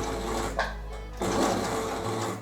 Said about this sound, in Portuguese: E vou vir com a costura o mais próximo possível aqui, ó.